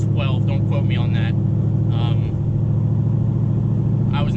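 A C5 Corvette with a cammed engine and a 100-shot nitrous setup rumbles steadily from inside the cabin while being driven, a deep constant drone beneath someone speaking.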